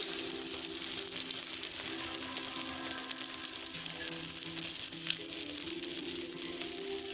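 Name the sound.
shami kabab frying in a pan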